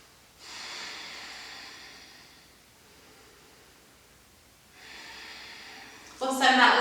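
Two slow, audible breaths taken while holding a yoga pose during a root chakra practice, each a soft airy exhale several seconds long, close and quiet, ending with a sharper louder breath.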